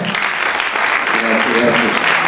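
Loud, dense applause from a concert audience at the Premio Targa48 2024 award event for a rock band, a continuous roar of clapping with voices murmuring underneath.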